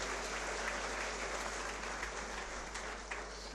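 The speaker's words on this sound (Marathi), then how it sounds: "पुन्हा एकदा स्वतःसाठी एक वेळ टाळ्या वाजवा" An audience at a motivational talk on goals breaks into sustained, dense applause, many hands clapping evenly and loudly throughout with no voices over it.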